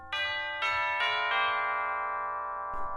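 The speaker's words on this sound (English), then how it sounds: "At the very bottom, we have the tubular bells as well." Several tubular bell strikes from an orchestral sample library in quick succession, bright metallic tones ringing on and overlapping as they slowly decay.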